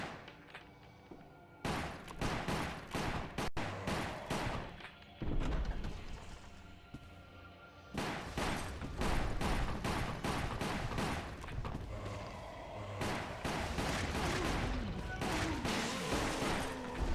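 Rapid bursts of video game gunfire in Resident Evil: The Umbrella Chronicles, loud and repeated in clustered volleys with short gaps, heavy impacts and crashes mixed in, running nearly throughout.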